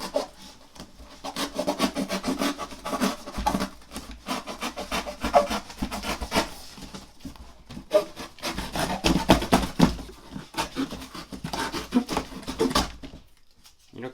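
A cardboard box is sawed through to cut a U-shaped doorway for a dog house, giving a steady close rasping and scraping with rhythmic strokes throughout.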